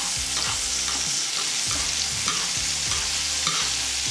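Neck chops of steak frying in a hot pan, a continuous loud sizzle with rhythmic scraping or basting pulses roughly every half second, close up and without talk.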